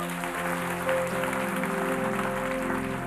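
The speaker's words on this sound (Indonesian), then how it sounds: "Kasih tepuk tangan tuh Tuhan." A church congregation claps during a sermon, a steady wash of applause running under sustained tones from instruments playing in the hall.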